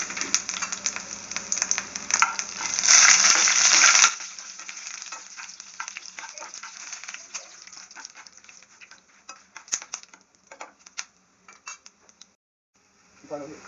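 Chana dal, urad dal, dried chillies, pepper, fenugreek and cumin roasting in a pan, a loud sizzle for the first few seconds, then sparser scraping and clinking of a spoon against the pan, close by.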